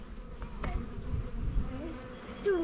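Honey bees in an open Layens or long Langstroth hive packed full of bees give a steady close buzzing hum, with single bees droning past the listener now and then.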